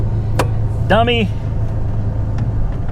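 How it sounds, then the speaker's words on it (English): A car idles with a steady low engine rumble in a Copart salvage-auction lot as the clutch is let out in first gear. A voice briefly cuts in over the constant hum. "We'll put it in first gear and I'll start letting off the clutch."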